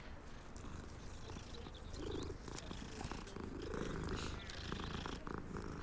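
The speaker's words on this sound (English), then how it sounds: "I must pet every single cat I see." A cat purrs while being petted in the video game Hogwarts Legacy, a steady close rumbling purr that swells slightly and continues without talk.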